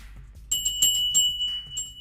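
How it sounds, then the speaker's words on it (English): A loud handbell rung during a live fantasy football show to celebrate reaching 200 likes, several bright clanging strikes in quick succession, close and sharp, with no talk over them. "That bell is so loud."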